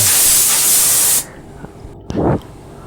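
A loud, sustained aerosol spray hisses onto a tire for about a second, then stops; after a brief pause comes a short, softer puff.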